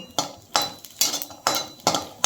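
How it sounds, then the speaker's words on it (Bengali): Green chillies being dry roasted without oil in a pan, with a run of sharp metallic clinks and scrapes from a utensil against the pan, about five evenly spaced strikes close up and with no talking. "এরকম শুকনো করে আমি একটু ভেজে নিচ্ছি"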